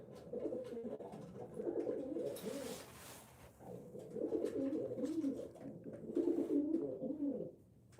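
Racing pigeons coo steadily inside a breeding loft, with repeated rolling, throaty phrases overlapping close by and a brief lull midway; no one speaks.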